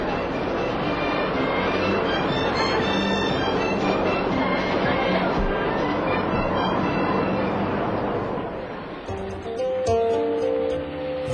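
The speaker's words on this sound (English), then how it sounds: "The Dalai Lama took the train for the first time." A train runs steadily at the Chinese border, its broadband rumble and rolling rail noise continuous and loud for most of the stretch, then easing near the end where brief tonal squeals and clatter appear.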